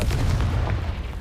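A deep, booming blast from the Confringo fire spell in the Hogwarts Legacy video game, one short heavy explosion with a rumbling low end that fades quickly.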